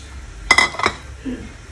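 A ladle clinks against a pot and bowl as Thai jungle curry with young peppercorns is stirred and served, making a few close metallic knocks in quick succession, followed by a brief soft murmur.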